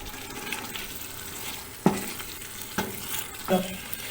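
Eggs frying in ghee with korma masala, a constant soft sizzle close by, broken by a few sharp metallic clinks of a spoon against the pan.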